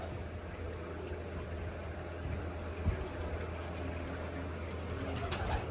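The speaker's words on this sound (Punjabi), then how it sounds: "ਆਹ ਹੀ ਉੜੇ ਆ ਕਬੂਤਰ ਸਾਰੇ ਹੀ" Flock of racing pigeons, kabootar, taking flight on a hot day, heard as steady low fluttering and faint cooing spread across a constant background hum, moderately distant.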